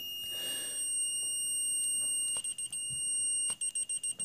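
A fire alarm repeater panel buzzer sounds in fire state: a steady, continuous high-pitched electronic tone holding throughout, with faint clicks and button presses near the end.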